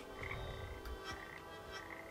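Frogs in the Papo & Yo video game give a few soft, low croaks amid a quiet tonal game ambience, with no talk.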